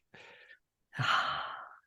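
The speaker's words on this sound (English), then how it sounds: "Nothing better than a hound snore in the background." A hound snoring nearby, two breathy snores: a short one, a pause, then a longer, louder rasping one, heard alone.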